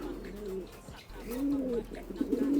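Racing pigeons in a cage give soft, low, repeated coos in rolling phrases at close range, with faint background noise.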